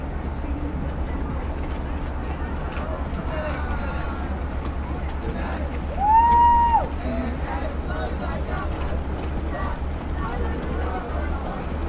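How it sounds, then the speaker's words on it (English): A Long Island Rail Road train, the Cannonball (Train 16), repositions at Westhampton station with a steady low engine rumble under crowd chatter, and a single short horn-like tone sounds midway. "Train is now being repositioned and will platform the rear 6 cars."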